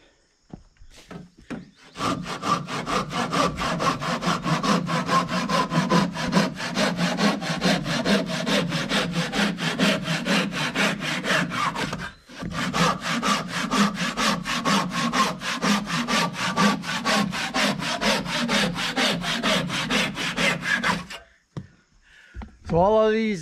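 A handsaw cuts through the wooden pegs on the outside of a horse barn, with rapid, steady back-and-forth rasping strokes, close and loud, pausing briefly midway before resuming and stopping near the end.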